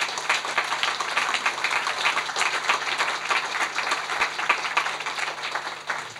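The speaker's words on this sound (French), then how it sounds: "vous pouvez l'applaudir" Steady applause from an audience at a political convention round table on Europe, dense clapping that holds evenly at moderate loudness for several seconds with no voices over it.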